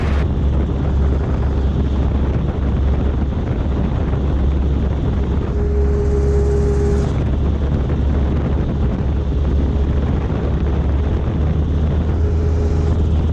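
Robinson R22 helicopter in flight, heard from inside the cabin as a loud, steady rotor and engine drone with rumbling wind buffeting. It runs unbroken for the whole stretch, with a brief higher whine partway through and no talking.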